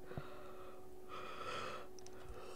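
A tired person yawns close to the mic, a long breathy exhale swelling in the middle and fading out, with soft breath sounds around it.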